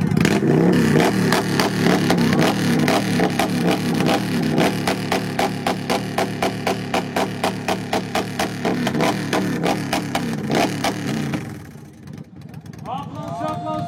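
A motorcycle engine revs loudly at a bikers' rally in Jēkabpils with rapid, rhythmic pulsing for most of the clip, then cuts out, leaving quieter background noise and faint voices.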